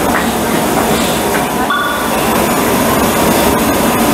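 A Hanshin Railway electric train rumbles steadily through Amagasaki station, a continuous loud rolling noise with a brief squeal of wheels or brakes midway.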